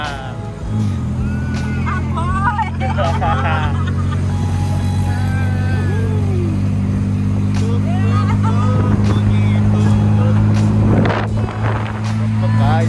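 A tuk-tuk's engine and exhaust thrum low and steady while riding, close and loud, with wind buffeting and people talking and laughing over it.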